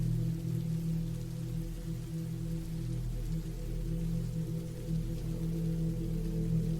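Steady rain falling, a constant dense hiss with a low rumbling bed, unbroken and even throughout with no voices.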